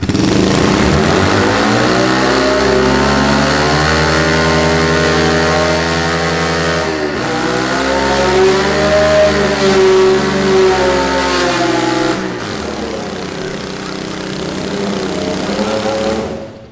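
A Duramax diesel swapped into a Chevrolet K20 truck revs hard in second gear, a loud close engine note climbing in pitch, dipping at a shift, then climbing again before easing off.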